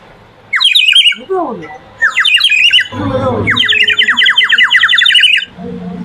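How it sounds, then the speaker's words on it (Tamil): Bird-like warbling whistles from a water-filled clay bird whistle, several bursts of rapid trilling chirps, fairly loud, with a voice briefly underneath. "இதில் நம்ம தண்ணி ஊற்றி ஊதுனா குருவி மாதிரியே கூவுங்க"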